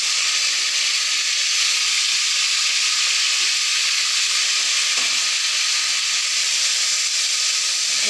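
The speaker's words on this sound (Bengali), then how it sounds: "এই সবুজ ফুলকপিটা ভেজে নেব" Green broccoli fries in a pan with a loud, steady, close sizzle and hiss of hot oil that holds evenly throughout, without talk.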